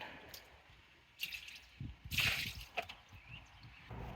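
Net dip coating pouring and dripping off a homemade wire catfish net, a run of splashy drips and trickles that swell in the middle and fade near the end.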